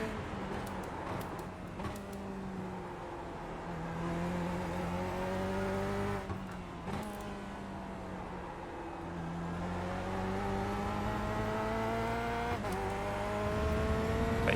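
A C8.R Corvette race car in the iRacing sim, engine note climbing through the gears in repeated rising sweeps, dropping with each shift and downshift braking blip, steady and fairly quiet in the cockpit.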